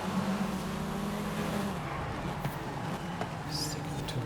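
Race cars in a midnight Guanajuato racing game event roar in a steady engine drone, one pitch holding then dropping as gears shift, with a brief higher whine near the end.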